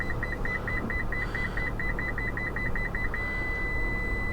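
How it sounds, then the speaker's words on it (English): Parking proximity sensor on a 2021 Toyota Venza Hybrid beeps in a rapid, evenly spaced series that quickens and then merges into a steady continuous tone, heard over low cabin rumble. "And as I get closer, you can hear the beeping continue up."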